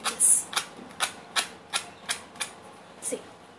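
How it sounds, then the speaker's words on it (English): Sandpaper rubbed downward over an MDF coaster to strip excess decoupage paper, about nine short evenly spaced scraping strokes, close and crisp, with no talk. "take the sandpaper and move downwards. Your extra paper will get removed"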